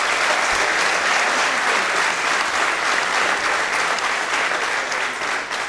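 Sustained, loud applause from a corporate talk audience, a dense even wash of clapping that holds for nearly six seconds with no break.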